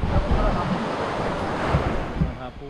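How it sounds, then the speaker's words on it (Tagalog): Strong sea current with surf and waves washing continuously near a reef at night, heavy broadband water rush with wind buffeting the microphone and steady loudness throughout. "malakas ang agos."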